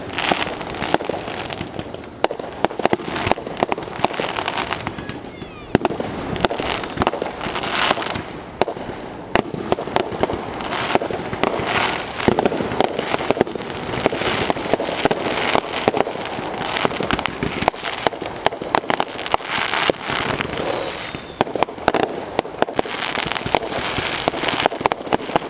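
Fireworks going off fairly close on the Fourth of July, in a dense, continuous barrage of crackling bangs and pops.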